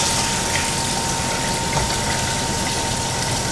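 Water runs steadily and loudly while basmati rice is rinsed in a cooking vessel, a continuous close rushing wash without pauses or talk.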